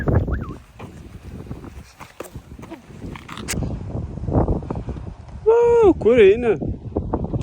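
Strong wind buffets the microphone in loud, gusty low rumbles that rise and fall, with voices talking over it and a brief whistle-like tone near the end.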